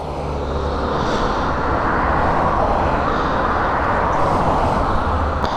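A Yamaha MT25 motorcycle accelerates along a road, its loud engine roar blending with heavy wind rush in one steady, unbroken drone with no voices.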